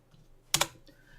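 A couple of quick computer keyboard keystrokes close together, fairly loud against a quiet room background, with no talking.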